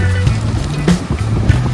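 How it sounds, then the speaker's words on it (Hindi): Loud water rushes and surges near Wattamolla beach on a day of bad weather. It makes a dense, steady roar up close, with a low droning tone running underneath. "पानी की आवाज़ आ रही है बहुत तेज़, यहाँ पर एक बीच है"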